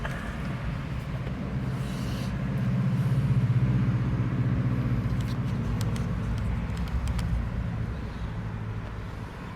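A car engine running just after the ignition is switched on, a low steady idle hum that swells briefly and then settles, with faint ticks and knocks over it and no talking.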